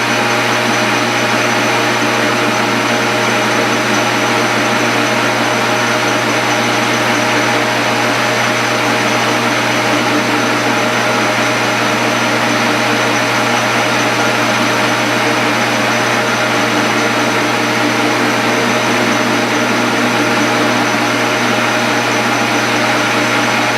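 A homemade spool valve engine runs at a steady speed, giving off a loud, constant whine and whir with even tones. It carries on unchanged throughout, with no talking.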